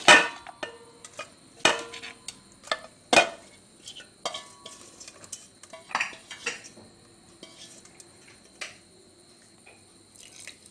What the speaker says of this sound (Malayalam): ഇതിന് നമുക്ക് കുക്കറിലേക്ക് ഇട്ട് കൊടുക്കാം